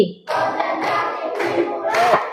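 Schoolchildren in a classroom do a rhythmic concentration clap, with several sharp bursts of clapping in a short patterned sequence.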